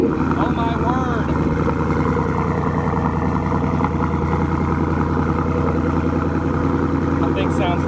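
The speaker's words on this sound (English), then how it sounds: "the startup sound you hear in every intro is this car" A car fitted with a Borla exhaust idles loud and close after starting, a deep, steady rumbling burble that holds throughout without letting up.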